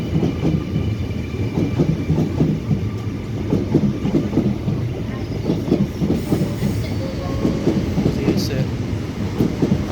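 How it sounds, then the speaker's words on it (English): A Waratah B set City Circle train runs through the station at Macdonaldtown without stopping, rumbling steadily at close range with rhythmic wheel clatter and a brief squeal near the end. "Waratah B set on platform number 1, City Circle service, not stopping"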